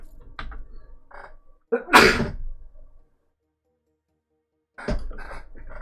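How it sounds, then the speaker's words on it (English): A single loud sneeze up close, with a sharp burst after a quick intake, surrounded by brief rustling and then silence. "Sneeze."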